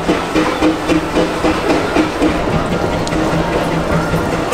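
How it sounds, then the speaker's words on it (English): A Disneyland Paris park train pulls in with steady rumbling and rail clatter under a hiss, while voices carry faintly in the background throughout. "The train's here."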